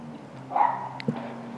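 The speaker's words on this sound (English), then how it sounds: "The neighbor's dog is barking." A neighbor's dog barks a few times at a distance, faint and brief yips against a quiet room background.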